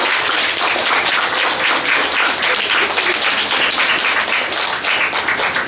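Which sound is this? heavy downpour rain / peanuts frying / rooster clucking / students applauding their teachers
students applauding their teachers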